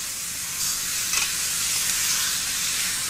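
Chicken frying in a pan with ground ingredients and spices gives a continuous close, bright sizzle and hiss, with a faint stir or spatter near the middle and no talking.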